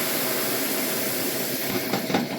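Red wine hitting a hot pan of cooked tomato puree and vegetables, a loud, steady broadband sizzle and hiss that swells with a few bubbling bursts near the end, with no voices.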